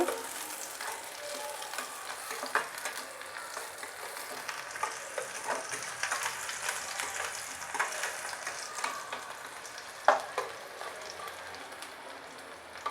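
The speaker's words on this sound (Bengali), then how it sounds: "কেটে রাখা পেঁয়াজ কুচি দিয়ে দিচ্ছি একটু নেড়ে নিচ্ছি" Chopped onions fry in hot oil with a constant crackling sizzle, broken by light scrapes and taps of a spoon stirring the pan, with one louder knock near the end.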